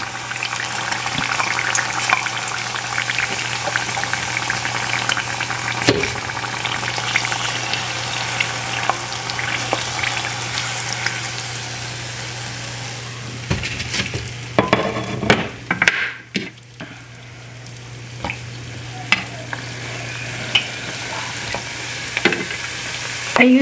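Spring rolls frying in hot oil give a steady, close sizzle with crackling bubbles, some stirring and brief clatter near the end; no voices.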